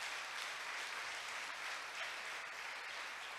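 A Spanish-speaking church congregation applauds during a morning service, a continuous, even wash of many hands clapping at moderate distance with no voices over it.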